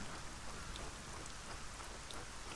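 Rain in the video game Arcania Gothic 4, a steady soft patter of drops falling on surfaces, faint and unbroken throughout.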